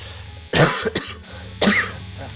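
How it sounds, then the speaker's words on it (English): Two sharp, close coughs, the first a quick double burst, followed after a pause by a single cough. "That pesky cough."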